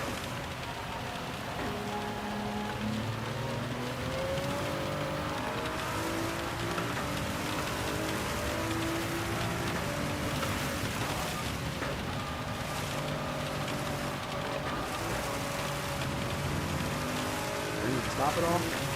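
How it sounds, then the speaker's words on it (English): Heavy rain and a race car engine in Gran Turismo 7 at Spa at night, a steady dense wash of rain noise with a continuous engine drone and shifting tones running throughout. "you literally barely drive your car when it's raining this hard."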